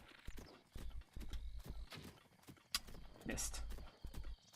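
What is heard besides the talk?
horse hooves in a video game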